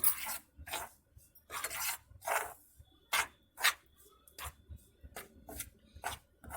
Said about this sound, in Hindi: तो इसे भून लेते हैं इसके रंग चेंज होने तक और एक अच्छी सी खुशबू आने तक।